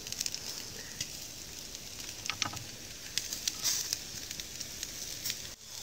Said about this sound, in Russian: Мясо начинается жарить.